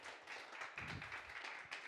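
Comedy show audience applauding, a continuous wash of many hands clapping at moderate volume with a few louder bursts, no talk on top.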